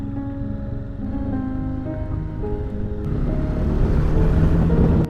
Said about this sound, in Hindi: हाँ पानी बह रहा है जगह जगह।